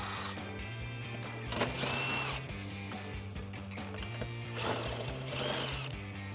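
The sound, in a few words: removing bolts with 13mm socket and extension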